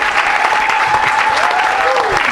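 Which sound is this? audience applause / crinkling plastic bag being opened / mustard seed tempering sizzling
audience applause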